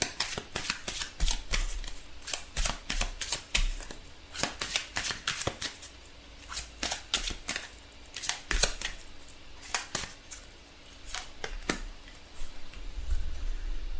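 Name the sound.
tarot cards being shuffled and drawn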